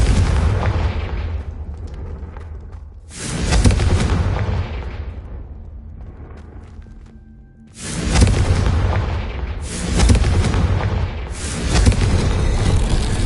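Confringo blasting spells erupt in Hogwarts Legacy as a run of heavy booming explosions. Several loud blasts come in waves, each one fading into a rumbling tail before the next.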